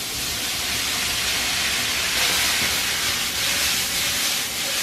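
Spaetzle sizzling in melted butter in a hot sauté pan, a steady, dense frying hiss that runs unbroken and fairly loud throughout, with faint crackles underneath and no talking.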